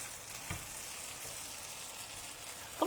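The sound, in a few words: vegetarian chicken pan-frying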